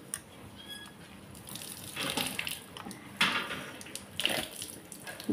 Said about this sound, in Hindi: मैं इसमें पानी डाल दूंगी और इसको एकदम अच्छा से